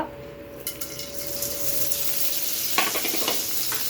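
Mustard seeds sizzle and crackle in hot oil for tempering rasam, a steady frying hiss with scattered sharp pops, close up and with no talking.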